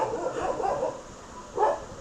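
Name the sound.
dogs barking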